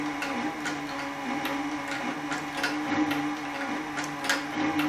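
A Cowboy CB3200 leather sewing machine with a servo motor stitching a belt slowly, a steady low mechanical hum with regular ticking needle strokes, close and continuous without speech.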